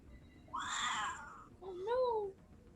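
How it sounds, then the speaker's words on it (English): An angry cat gives two drawn-out meows, a harsh yowl then a rising, wavering cry, close and clear against a quiet background. "Oh, sounds like my cat's angry."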